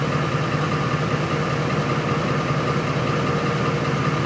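A 2004 Ford F-150 with a 5.4L V8 idles steadily on its own despite a faulty fuel pump driver module, a continuous, fairly loud low engine drone with slight vibration and no voices over the full clip.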